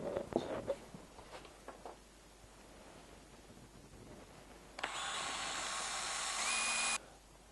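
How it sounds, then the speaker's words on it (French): A drill bores out the centre hole of a small propeller, about 4.5 mm long, so a nail can slide freely through it. Light handling rustles and taps come first, then a steady, fairly loud whirring drone runs for about two seconds and stops abruptly. "J'élargis un petit peu le trou de façon à ce que le clou puisse coulisser très très facilement sur l'hélice."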